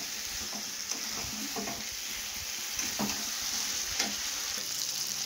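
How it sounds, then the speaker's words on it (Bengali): A fish head frying in spice paste in a pan, close sizzling broken by repeated spatula stirs and scrapes in an uneven rhythm, with no talking. "মাছের মাথাটা দিয়ে আবার কিছুক্ষণ নাড়াবো"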